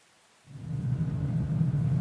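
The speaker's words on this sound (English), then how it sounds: "Yes, it's raining." Steady rain with a low rolling thunder rumble in the video game Captain of Industry, starting abruptly after a brief quiet moment and continuing at a moderate, even level with no talking.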